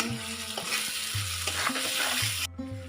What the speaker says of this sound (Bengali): মশলা হয়ে এসছে আমার, একটু টমেটো দিয়ে দিলাম।